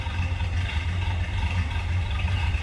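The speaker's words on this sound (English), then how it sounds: "Got kind of a rumble coming out of 305" A 1983 Chevrolet Monte Carlo SS with a 305 V8 and an aftermarket cam, idling with a low, steady, lumpy rumble at close range.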